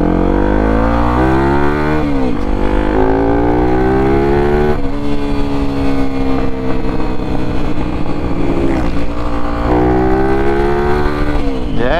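A Honda XRE 299cc motorcycle ridden hard along a corridor at dusk, its loud close engine revving up and down through repeated rising and falling pitch sweeps without speech.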